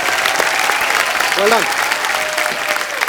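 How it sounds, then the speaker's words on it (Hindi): Studio audience on The Kapil Sharma Show claps loudly and steadily for guests, dense applause filling the room while a host speaks briefly over it. "इनके लिए तालियां।"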